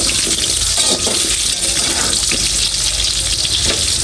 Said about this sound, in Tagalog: Prito ko na rin po itong mga carrots